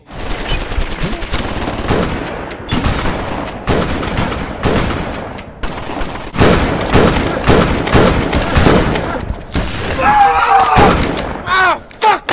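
Rapid gunfire rips through an acting scene as shots hit a house, loud repeated bursts in dense clusters with brief gaps and a few scattered final shots.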